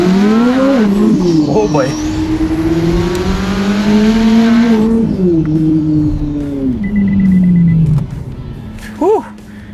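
2026 Chevrolet Corvette C8 Z06 twin turbo, tuned past 800 wheel horsepower on 93 octane, accelerates hard on a street and slides sideways: a loud rising engine roar through gear changes with tire squeal, then a startled voice.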